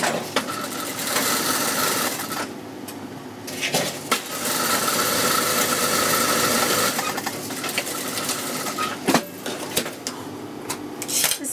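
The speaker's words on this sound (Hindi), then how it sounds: "इनके बीच में जो है यहाँ सिलाई लगा लेते हैं।" A sewing machine stitches the belt pieces of a salwar with a steady whirring run, pausing briefly and restarting with a few clicks and knocks, close and alone without talk.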